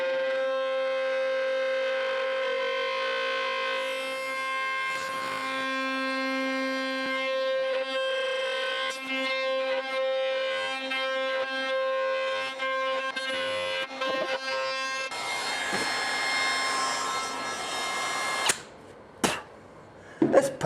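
A router smooths a poplar workpiece along a template while building a kids' table, a steady loud whine with a sustained tone running for about fifteen seconds, then a harsher broadband cutting roar and a few abrupt stops near the end.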